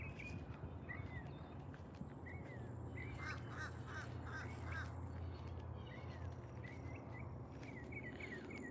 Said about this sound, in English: But all we find are ducks and birds.